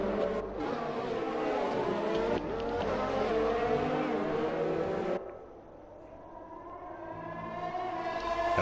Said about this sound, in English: Tones' engine is screaming in my POV